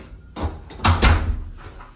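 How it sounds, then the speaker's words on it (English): The front door of a deluxe studio room at Walt Disney World's Beach Club Villas opens with a short sequence of close thumps and a rattling swing. "so you come in through the front door"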